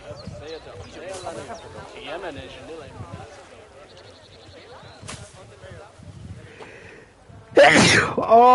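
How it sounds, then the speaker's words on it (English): One loud, sudden sneeze bursts out near the end, close to the microphone, following a stretch of a person talking over quiet game sounds. "I just sneezed all over everything"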